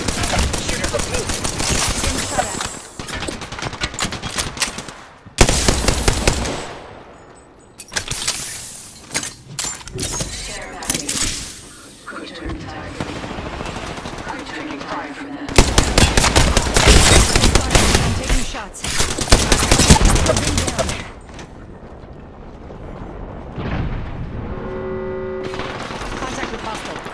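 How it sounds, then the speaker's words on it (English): Enemy gunfire in the battle-royale video game Apex Legends comes in loud, repeated bursts of automatic fire and heavy single shots, with brief lulls between volleys and game voice lines heard at times. "The enemies are shooting at me."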